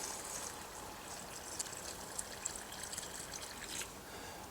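Water is poured into a freshly dug planting hole inside a polytunnel, giving a faint, steady trickle and soft splashing with a few small drips and taps.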